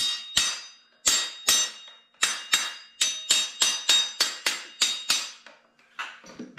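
Hammer tapping metal parts into a Polaris Sportsman 850 ATV brake rotor: a close series of about fourteen sharp, ringing metallic taps with irregular spacing that later become faster and quieter.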